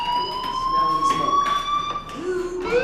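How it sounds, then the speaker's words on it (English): Steady electronic fire alarm tone from the video game Life is Strange, a sustained high ringing pitch held without pause across the whole moment, loud and close, with a voice briefly rising near the end. "Hey, do you hear that fire alarm?"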